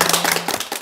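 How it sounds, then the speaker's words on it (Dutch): Applause from a studio audience on a Dutch comedy show about forgotten vegetables, a dense burst of clapping that fills the short moment without any talk. "En dan nu een daverend applaus voor Ratja."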